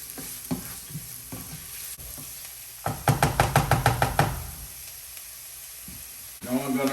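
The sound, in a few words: stirring and sautéing food in a pan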